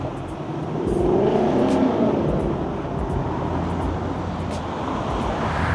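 A vehicle on a city street swells past at moderate distance, its engine rumble rising then fading into steady traffic noise, with no talk.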